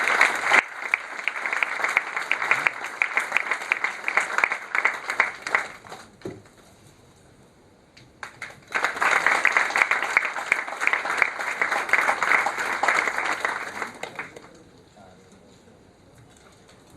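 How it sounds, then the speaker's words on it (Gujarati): Loud, sustained applause from a gathered audience at a meeting between police officials and industry members, two long rounds of dense clapping separated by a short quieter lull, ending in a fade. "તાળીઓના ગડગડાટથી આપણે વધાવી લઈએ."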